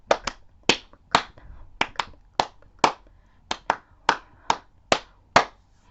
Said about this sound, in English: Thank you so much for clapping those rhythms.